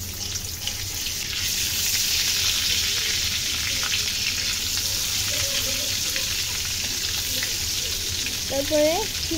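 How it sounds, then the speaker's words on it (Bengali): Oil sizzles steadily in a kadai while an egg dish is cooked, a close, continuous frying hiss that runs throughout, with faint clinks near the end. "আরেকটা কড়াইতে এখানে তেল দিয়ে দিয়েছে আর দিয়ে দেবে লবণ"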